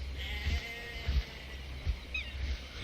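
Bleating goat from the Jurassic Park Operation Genesis video game gives a short, moderately close call, set over a background of game ambience and several soft low thuds.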